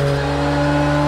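A Porsche race car engine in Project Cars 2, a steady, loud, tonal engine drone held at constant pitch, with no talk over it.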